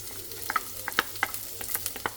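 Garlic frying in oil in a large pan, a quiet sizzle broken by a quick series of sharp spatters and crackles, close by and with no one speaking.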